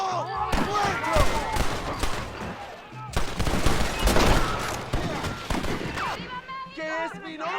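Rapid bursts of gunfire from a Red Dead Redemption gunfight crackle loud and dense throughout, overlapping shots layered with shouting voices and brief pauses between volleys.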